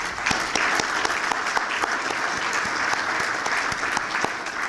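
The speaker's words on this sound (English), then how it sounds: "If we can give everyone a round of applause." An audience at a chamber of commerce breakfast applauds with steady, close, dense clapping that holds at an even level from start to finish.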